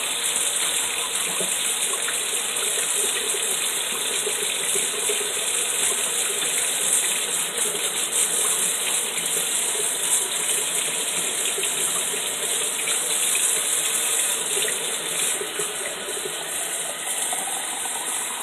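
Cold water gushing steadily from a tap during a Dollar Tree flower pot craft, a continuous loud rushing stream with no talking.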